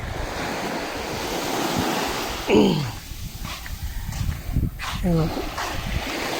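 Small waves wash and hiss onto a fine-sand beach at low tide under gusty wind noise, with brief voices speaking partway through.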